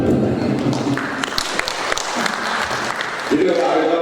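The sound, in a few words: audience applause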